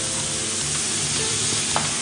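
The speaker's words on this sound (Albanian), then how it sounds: "shtojmë qepën Iva." Finely chopped onion sizzles with browning meat in a pan, a constant loud frying crackle close up, with a brief stirring scrape toward the end.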